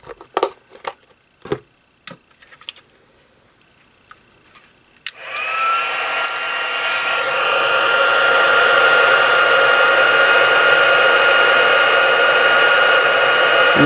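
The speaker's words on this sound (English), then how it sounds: "And then we will heat set that powder." After a few light clicks, a heat tool roars on to melt embossing powder on a handmade card, blowing a loud, steady whirring hiss that rises slightly and then holds for the rest of the clip.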